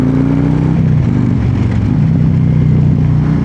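A Harley-Davidson motorcycle in ludicrous ride mode slows under engine braking, giving a loud, close, continuous low engine drone with a steady rumbling pulse throughout, no voices.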